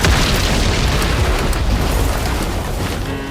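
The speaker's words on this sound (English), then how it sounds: "Within minutes, the dryer catastrophically exploded." An industrial dryer at a chemical plant explodes, filling the moment with a loud, continuous, broadband roar that barely eases across its few seconds.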